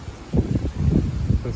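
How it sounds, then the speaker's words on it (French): A strong gust of wind from the west-northwest during a spring squall, buffeting and rumbling in uneven low surges against the microphone, loud and close. "Ah, une bonne rafale."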